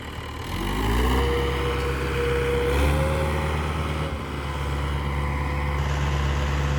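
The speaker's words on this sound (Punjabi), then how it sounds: "ਅੱਜ ਗੁਗਨੀ ਬਾਈ ਵਾਲਾ ਟਰੈਕਟਰ ਚੱਲਦਾ" A tractor engine runs steadily nearby, its deep rumble shifting pitch slightly as the revs rise and settle.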